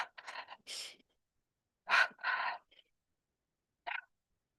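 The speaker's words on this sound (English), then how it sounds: "Double breathing with elbow touching." Sharp nasal breaths from a double breathing exercise, heard as quick paired inhales and exhales in short bursts with silent gaps, close and clear with no talking.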